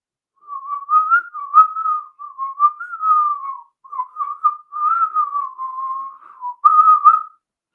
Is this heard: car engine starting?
no